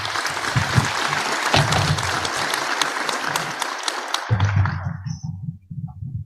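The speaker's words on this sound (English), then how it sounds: "join me in giving a round of applause to our esteemed speaker" A sustained round of audience applause for a speaker at an international directors-general forum, steady dense clapping from a large crowd that thins and tapers off toward the end.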